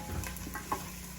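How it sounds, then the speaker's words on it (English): Potatoes sauté in a pan with a brief, steady sizzle and a soft stir or clink, heard up close with no voices. "I'm sauteing this"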